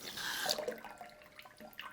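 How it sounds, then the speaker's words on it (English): Water pushed with a syringe backflushing through a Sawyer Squeeze filter fitted with a pre-filter, a close hissing, spraying gush in the first half-second that trails off into faint trickles and drips. "So I've got my syringe, a little bit of water, and we will backflush some water."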